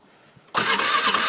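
A Honda 400ex ATV with a Namura piston is started cold on choke in sub-zero weather, a quiet lead-in and then the engine catching abruptly and settling into a loud, steady, slightly rich idle nearby.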